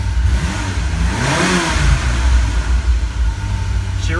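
The engine of a 1997 Ferrari F355 Spider with a Motronic 5.2 system and new plug wires runs loud and close, holding a steady rumble with one smooth rev rising and falling partway through.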